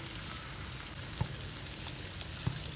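Yam slices fry in oil in a pan as a vegetarian stand-in for fried fish, giving a steady, close, even sizzle throughout with two soft taps of a utensil.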